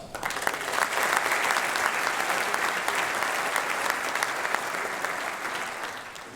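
A large audience applauds in a steady, dense roar of clapping that holds for several seconds before tapering slightly.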